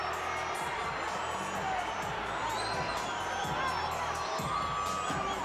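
A crowd in a boxing arena cheers and shouts in a continuous, dense roar, with scattered whoops and voices mixed in, steady and loud the whole time.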